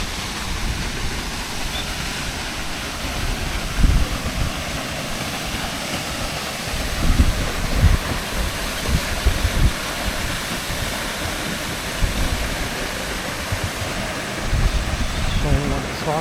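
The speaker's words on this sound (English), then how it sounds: "You can hear the water." Rushing water at Hunua Falls in the Hunua Ranges Regional Park, a constant broadband roar filling the scene, with intermittent low thumps and rustles nearby.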